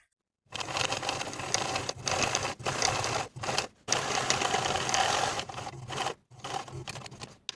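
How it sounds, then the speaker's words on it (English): A sewing machine runs stitch-in-the-ditch along the waistband seam of denim jeans in several fast, steady bursts separated by short pauses, close and clear with no talking. "Stitch in the ditch of the waistband seam from one side seam to the other."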